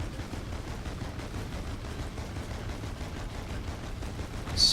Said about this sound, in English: Firing your primary weapon periodically triggers a gas bomb